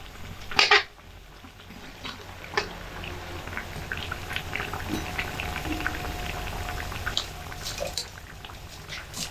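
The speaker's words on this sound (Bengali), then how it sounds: "এবার ওপরের পিঠটাকেও একইভাবে ভেজে নেব।" Sandwich pieces frying in a pan, a soft crackling sizzle with scattered pops, close and fairly quiet after a sharp clatter at the start, with no talking.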